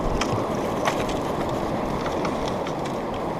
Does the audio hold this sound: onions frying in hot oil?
no